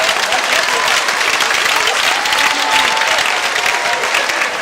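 Audience at a Cameroonian one-man comedy show breaks into loud, sustained applause, a thick wall of clapping from a large crowd with faint cheers and murmurs woven through it.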